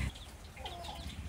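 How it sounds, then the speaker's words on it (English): Brief, soft clucking of colorful chickens close by in Sumatra, a few short calls over quiet outdoor background. "Colorful chickens for some reason."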